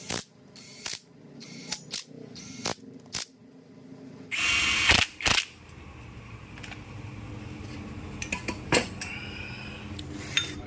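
Metal clinks and brief ratcheting clicks while tightening clutch bolts on a TVS Apache RTR 200 4V engine during a rebuild, with scattered sharp taps and a louder burst of tool noise in the middle, no talking.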